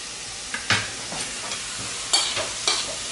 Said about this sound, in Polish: Miąższ z cukinii przesmażamy dosłownie 3 minuty.